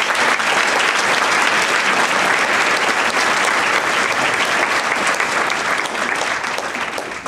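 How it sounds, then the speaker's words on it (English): Sustained audience applause at a summer graduation ceremony, dense steady clapping from a large crowd that carries evenly throughout and tapers slightly at the end, with no talk over it. "Let's give all the Bridges to Success students a huge round of applause."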